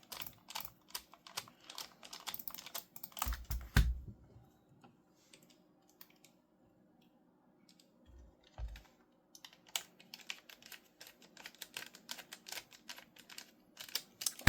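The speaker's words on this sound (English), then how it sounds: "we're just going to test the R1 and L1" Mouse click triggers fitted to the R1 and L1 buttons of a PS5 controller are pressed in bursts of rapid, crisp clicking, close up, with a quiet pause in the middle before the clicking resumes.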